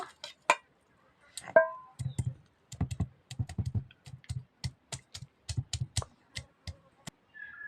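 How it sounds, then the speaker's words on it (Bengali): Garlic cloves pounded on a stone grinding slab for a green mango pickle, a run of sharp, close knocks and taps in an uneven rhythm, with a few louder scraping clinks near the start. "আমগুলো আমি শিল ধরে ছেঁচে নিয়েছি এই রসুনগুলো ধরে ছেঁচে নেব"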